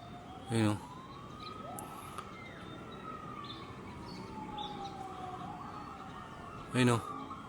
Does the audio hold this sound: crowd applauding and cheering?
no